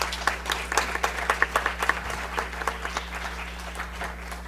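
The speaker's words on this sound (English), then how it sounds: "Give them a round of applause." An audience at an Arya Mahasammelan gathering applauds youth leaders with steady, fairly loud rhythmic clapping that fades slightly toward the end.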